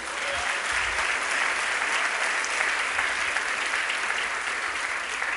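A church congregation applauding during a sermon, a dense, continuous roar of clapping from many people filling the room, steady and loud from start to finish.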